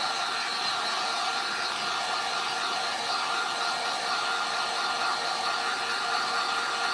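A hair dryer blows continuously on wet paint at a sign shop, a steady close whooshing roar that holds even throughout, with no voices.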